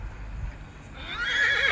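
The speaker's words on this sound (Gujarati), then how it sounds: "આપણી ઘોડી હમણાં આવેલ નાખશે," A mare neighs in a loud, rising whinny that starts after a second of quieter ambient noise and carries on to the end, close to the listener, with no talk over it.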